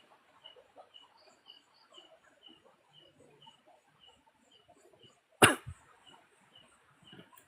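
On Bukit Sarang Pocong, where the air feels heavy, one sharp cough bursts out with a short follow-up, loud and close against a quiet outdoor backdrop of faint chirping birds or insects.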